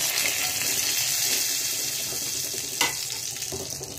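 Bay leaf and whole garam masala spices sizzling in a blend of hot oil and ghee, a steady close crackling fry with a brief louder spatter near the end.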